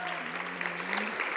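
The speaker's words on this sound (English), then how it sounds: "A round of applause for Aina Lee" Brief, dense audience applause for Aina Lee, a wash of clapping under a speaking voice for just over a second.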